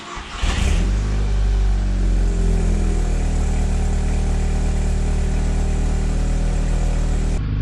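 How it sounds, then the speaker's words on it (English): VW MK6 GTI engine fitted with a REV9 catback exhaust with no mufflers, starting with a sharp bark and then holding a loud, steady droning idle right up close, with no voices. "REV9 catback exhaust, no mufflers installed on this"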